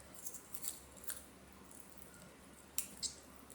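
Scissors cut the backbone out of a raw chicken for spatchcocking: a few crisp snips, softly spaced, then two sharper cuts near the end, in a quiet room.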